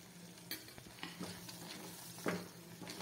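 Jowar upma with a spoonful of ghee being stirred in a pan on the stove, giving close, quiet scraping strokes over a soft sizzle, with a few sharper clinks of the spoon against the pan.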